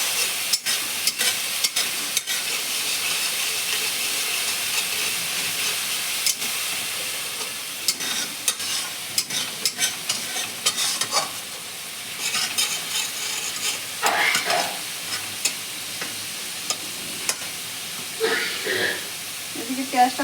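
Ground onion paste, with garlic paste, frying in oil for a Bengali doi katla fish curry: a steady close sizzle runs throughout, broken by a series of scraping stirring strokes in the second half.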